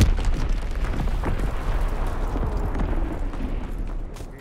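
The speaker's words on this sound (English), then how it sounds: "Firing division artillery." Heavy artillery shells burst in a Call of Duty WWII match, making deep, rumbling explosions that roll into one another in a loud, continuous barrage with no talking.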